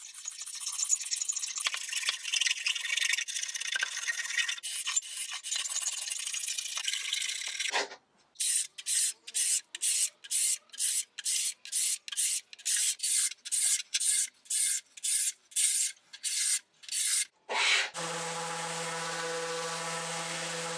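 Old wooden cabinet under restoration, a scraper dragged across its worn surface in a long continuous rasp, then a run of short rhythmic scraping strokes, ending in a steady mechanical whine.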